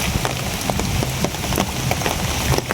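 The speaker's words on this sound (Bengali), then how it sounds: "দুমছে বৃষ্টি নামছে" Heavy rain pours down during sudden outdoor rain, a dense, steady hiss of drops drumming on surfaces close by, with scattered louder splatters throughout and no voices.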